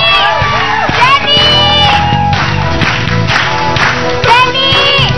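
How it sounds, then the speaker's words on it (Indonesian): Television show audience clapping and cheering, with loud crowd noise, whoops and shouts rising and falling over several seconds while voices call out over it. "Tepuk tangan untuk Dedi dan Taufan."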